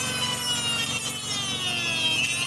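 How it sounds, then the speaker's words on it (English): A Dremel rotary tool grinds through a Honda Civic wagon rear disc brake bracket, a steady high-pitched whine with continuous rough abrasive hiss, heard close and alone. "So let me get that rest of that dremeled off real fast."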